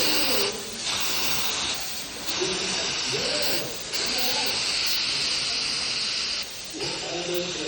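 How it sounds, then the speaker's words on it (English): Long hissing bursts of spray from a spray paint can onto canvas, steady and close, broken by brief pauses, with voices and background chatter underneath. "we had to spray this spray paint onto the"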